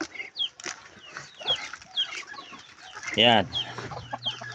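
Farm poultry being fed, with scattered clucks and chirps from a flock of ducks and chickens, one louder squawk midway and someone speaking intermittently nearby.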